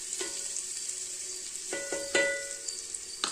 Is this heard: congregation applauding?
no